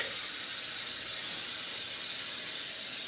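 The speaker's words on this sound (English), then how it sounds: "I like to give it a little spray of Pam just to make sure it doesn't stick." A can of Pam cooking spray hisses steadily into a bread pan, a continuous close airy spray lasting a few seconds.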